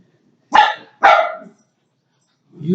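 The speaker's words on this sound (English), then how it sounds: "Just heard a dog barking." Two sharp, close dog barks come half a second apart, followed by a fainter low start of a third after a short silence.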